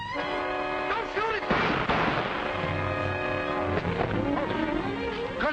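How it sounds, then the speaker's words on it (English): Several sharp gunshots crack out amid a tense scene, sudden loud bursts breaking over sustained musical tones and shouting voices. "Gunshots!"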